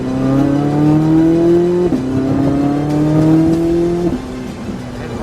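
A Corvette Z06 pulls hard on a race track, its engine droning loud and close with rising pitch, briefly dropping at two quick gear shifts before climbing again.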